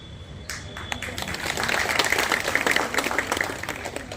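A seated audience claps for a felicitation at a community awards event, applause starting with a few sharp claps and building to steady, moderately loud clapping from a crowd.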